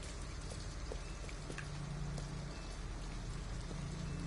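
Steady rain falls in the video game Detroit: Become Human, a dense, even hiss of drops that holds at moderate level throughout with no voices.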